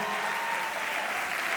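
Audience applause at a live concert, a dense, steady wash of clapping from a crowd that holds at an even level throughout without voices standing out.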